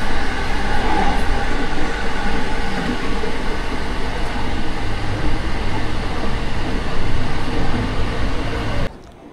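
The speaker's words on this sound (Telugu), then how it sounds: "లోకల్ ట్రైన్ తీసుకుంటాం." Loud, steady rumble of a local train travelling between Osaka and Kyoto, with rattling carriage noise sustained for most of the stretch before dropping away abruptly near the end.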